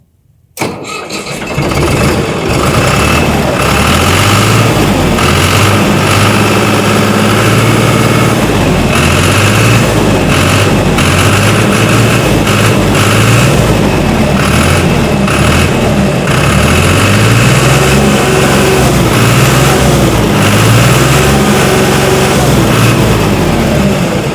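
A 2018 Ford 4560 Euro 65 HP tractor engine cranks over briefly and catches, then settles into a loud, steady diesel idle close by that runs on with a slight rhythmic rise and fall, no talk.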